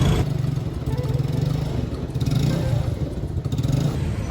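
Motorcycles and cars idling and passing on a street in Ipiales, Colombia, a continuous low engine rumble with clatter and a faint murmur of people nearby.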